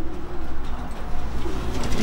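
Young pigeons coo softly and continuously inside a pigeon loft, a low, murmuring chorus close by with a faint background hum.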